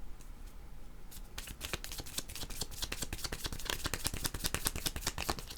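Oracle cards shuffled and drawn from a deck by hand, a fast run of soft, crisp flicks and riffles that grows denser and busier, close and quiet, with no talk.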